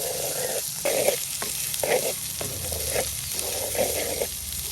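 Spices tempering in hot oil for cowpea curry, a soft sizzle with rhythmic stirring strokes about every half second, fairly quiet and close.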